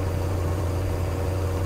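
A car engine idles close by, a steady deep hum with a strong low drone and even, unbroken vibration and no voices.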